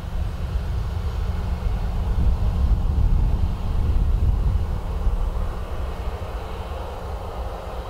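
A Blue Islands ATR turboprop airliner at Dublin Airport gives off a steady low engine drone that swells slightly midway, then eases, with no voices.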